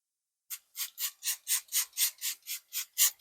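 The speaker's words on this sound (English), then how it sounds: "So I'll spray this on" A plastic bottle of makeup setting spray puffs out fine mist in a quick regular series of about ten short hissing bursts, close and fairly quiet, with no talking.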